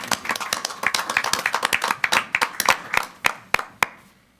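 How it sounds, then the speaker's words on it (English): Round of applause at a school board organizational meeting: distinct individual claps from a modest group, fairly close, thinning out into a few isolated loud claps before fading. "Please join me in a round of applause."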